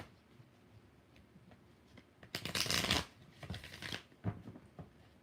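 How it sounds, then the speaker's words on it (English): A deck of tarot cards is riffle-shuffled once in a quick, crisp burst, followed by a softer shuffle and a few light taps, close and quiet. "Two more shuffles."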